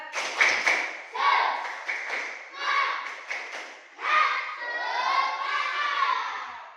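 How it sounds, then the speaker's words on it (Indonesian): A school class performs a rhythmic chanted clapping routine, children's voices shouting in unison between bursts of patterned hand claps, loud and close. "Tepuk semangat"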